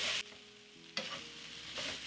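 Tomatoes sizzling as they go into a cooked flour roux for beef stew, a steady close frying hiss with stirring scrapes and louder bursts at the start and middle.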